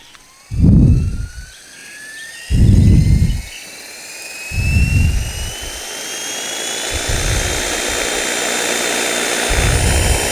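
The rotor of an ALIGN 450L RC helicopter spins up close by, its whine rising steadily in pitch. Several heavy low thumps come at intervals over the growing drone.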